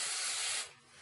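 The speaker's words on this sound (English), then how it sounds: "You just spray this hairspray" A single short burst of hairspray from a can hisses close up onto a dried flower head to make model railroad trees, then stops abruptly.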